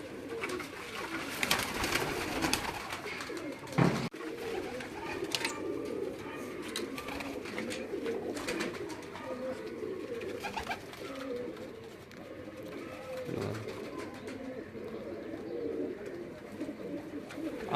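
Soft, repeated cooing of pigeons on a rooftop against a low, steady background, with a few faint knocks and rustles.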